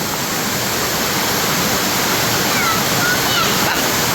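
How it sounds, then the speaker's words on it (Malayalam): A small waterfall in Malappuram, Kerala, where water rushes down with force, gives a loud, dense, unbroken roar of falling water heard up close. "അങ്ങ് താഴെ വരെ നല്ല ഫോഴ്സിൽ വെള്ളം ചാടി പോകുന്നുണ്ടേ"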